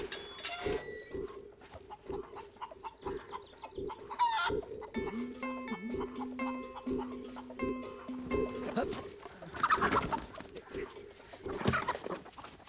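Rooster and hens clucking in a rural Tamil village yard, with repeated short clucks and calls at close range, then a louder burst of squawking near the end, over faint background noise.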